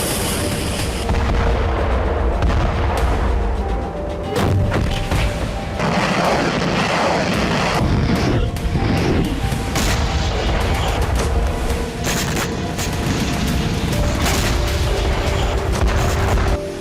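Heavy booms and explosive blasts from artillery strikes in Kharkiv, Ukraine, arriving repeatedly over a continuous loud, rumbling background.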